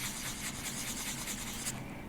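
A sanding block rubs in circles across a sterling silver clay pendant, giving it a satin brushed finish. The scraping is steady and close, a continuous gritty hiss with faint rhythmic pulses from the circular strokes, and no talking over it.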